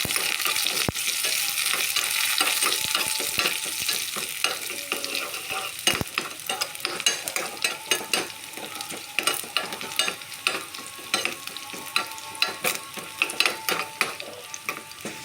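Dried red chilies and curry leaves sizzle and crackle in hot oil in a pan, with steady stirring and scraping of a spoon against the metal throughout, close and continuous.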